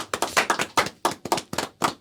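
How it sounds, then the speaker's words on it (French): Hand claps ring out to welcome a woman at a Congolese community gathering: a sparse, uneven run of about nine distinct claps over two seconds, fairly close and clear, with no voices over them. "On l'applaudit bien fort, s'il vous plaît."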